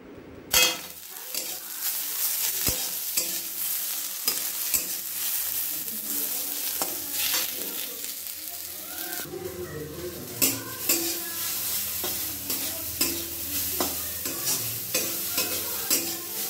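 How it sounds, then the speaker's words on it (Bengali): Stirring and frying kochu stem curry in a pan in a home kitchen, with a steady sizzle under repeated scraping and clinking of a utensil against the pan. The sounds are close and carry on throughout without talking. "আর আমি এদিকে রান্না করছি।"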